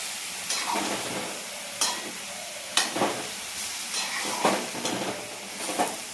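Chana dal frying in ghee in a pan, a steady sizzle and hiss broken by several sharp scrapes and clatters of stirring against the pan, close by and with no talk.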